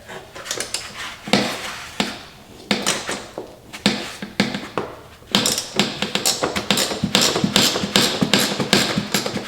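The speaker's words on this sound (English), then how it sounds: "removing these two bottom bolts here in the bulkhead" Metallic clicks and taps of a ratchet and socket removing the two bottom bulkhead bolts on a 2024 Polaris 9R 146 snowmobile, quick irregular bursts of close, fairly loud clinking with brief pauses between runs.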